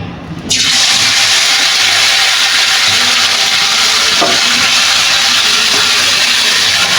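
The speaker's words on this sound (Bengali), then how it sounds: "আমার তেল গরম হয়ে গেছে এখন আগে থেকে যে ম্যাগনেট করে রেখেছিলাম এই মাংসগুলো আমি দিয়ে দিব" Marinated chicken pieces hit hot oil in a pan for a chicken and potato curry, bursting into a loud, steady, broadband sizzle that starts abruptly and holds close and unbroken throughout, with no talking.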